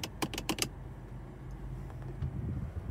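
Electronic parking brake switch on a 2021 Honda Civic RS sedan pulled up, giving a quick cluster of four sharp plastic clicks inside the cabin, followed by quiet interior hum.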